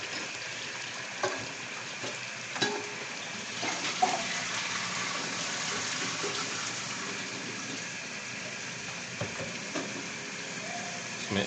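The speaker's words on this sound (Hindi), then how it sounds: "अब यहाँ पे हम इसमें आलू ऐड करेंगे।" One kilo of potatoes tipped into a hot, sizzling onion-tomato masala for aloo matar curry, giving a steady broadband hiss of frying throughout with a few soft thuds and clatters from the pan, no talking.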